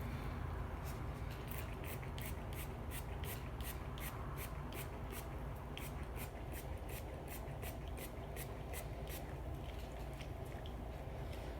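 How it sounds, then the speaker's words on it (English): Detangling hair repair spray misted onto a wig in a long run of quick, regular pumps, about twenty short hissing bursts at a steady rhythm, close and fairly quiet over a soft background hum. "so we're gonna spray the hair now."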